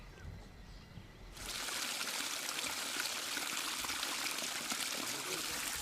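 Stream flowing through a forest wildlife sanctuary: quiet surroundings give way to a steady, close, full rush of running water that continues without a break.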